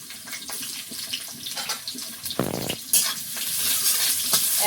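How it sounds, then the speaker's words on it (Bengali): Black cumin seeds and chopped onion frying in oil in a wok, giving a steady close sizzle with intermittent stirring and scraping, and a brief louder gush of water partway through. "আরেকটা রান্না হবে একটু কালো জিরে পেঁয়াজ কুচি তেলে।"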